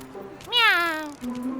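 A cartoon cat from Bablu Dablu lets out one loud, close, drawn-out meow that rises and then slides down. Brief voiced sounds come just before and after it.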